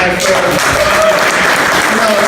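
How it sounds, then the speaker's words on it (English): Crowd applause at a New York graffiti and hardcore event at Powerhouse Arena, a loud steady wash of clapping and cheering with voices mixed in throughout. "Round of applause for this guy"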